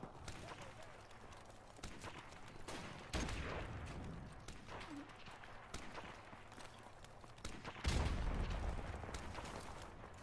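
Gunfire in a first-person shooter video game, scattered faint shots and a couple of louder bursts over a quiet, busy background.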